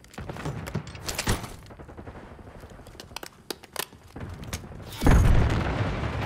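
Gunfire and explosions in Call of Duty Black Ops 6: scattered sharp shots and short bursts, then a loud booming blast near the end.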